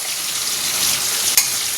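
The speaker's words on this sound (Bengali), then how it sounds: "এখানে কাতলা মাছ হচ্ছে ভাজা" Pieces of catla fish frying in a home kitchen pan give a loud, dense, continuous sizzle that crackles for under two seconds, with one brief sharp spatter near the end.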